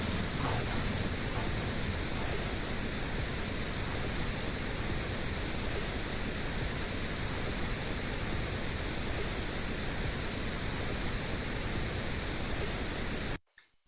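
A steady, even hiss of pink noise test signal running unchanged for over ten seconds, then cutting out abruptly.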